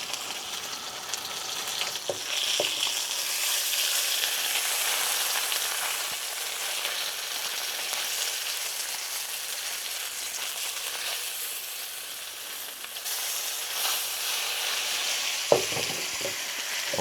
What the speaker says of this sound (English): But I've never tried to cook salmon like this.